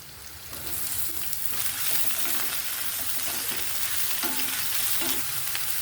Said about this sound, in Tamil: பீர்க்கங்காய் ஒரு 5 நிமிஷம் லோ ஃப்ளேமில் வதக்கணுங்க.